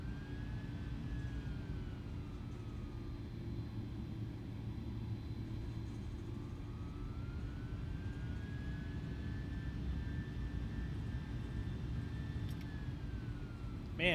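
Airliner engines spool up for taxi thrust in Microsoft Flight Simulator, a FedEx cargo jet at Dallas DFW, giving a steady loud roar with a slowly rising and falling whine above it throughout.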